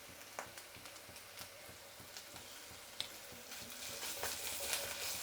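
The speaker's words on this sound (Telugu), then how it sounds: "ఈ అల్లం వెల్లుల్లి పేస్ట్ కూడా పచ్చివాసన పోయేదాకా బాగా వేయించుకోవాలండి" Ginger garlic paste fries in a pan for a simple sambar, a quiet steady sizzle with a few soft stirring taps, no talk.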